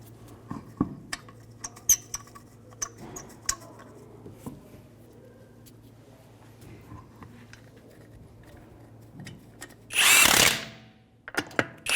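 Power drill tightening a wheel as a tire goes back onto a 2015-2019 Hyundai Sonata during a lower control arm job; faint scattered clicks and taps lead to one loud burst of drill whirring near the end.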